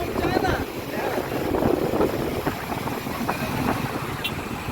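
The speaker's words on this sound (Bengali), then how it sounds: "অনেক বাতাস, মনে হচ্ছে পুরো মোবাইল উড়ে নিয়ে যাবে।" Strong wind buffets the phone microphone, making a continuous loud rumble and roar that muffles faint voices underneath.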